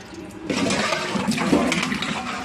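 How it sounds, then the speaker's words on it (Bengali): Tap water gushes steadily in a kitchen while fish are rinsed for cooking, starting after a brief quiet moment and holding a loud, even splashing rush to the end. "এখন মাছগুলো আমরা ধুয়ে নিচ্ছে"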